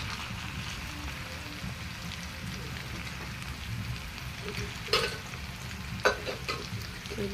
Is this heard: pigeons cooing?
no